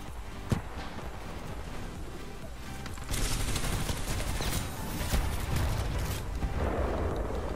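Sustained bursts of L-STAR fire in Titanfall 2, loud and continuous, swelling in intensity midway and again near the end, mixed with dense in-game action noise.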